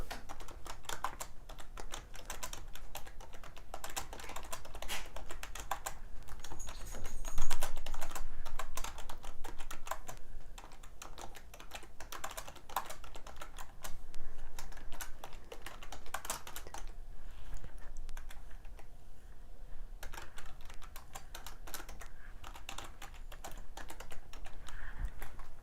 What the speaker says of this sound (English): You got to listen to me type on the keyboard